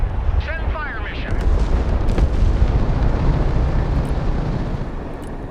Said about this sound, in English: MLRS ready. Send fire mission.